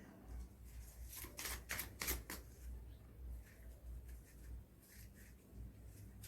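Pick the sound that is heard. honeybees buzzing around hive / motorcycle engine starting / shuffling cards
shuffling cards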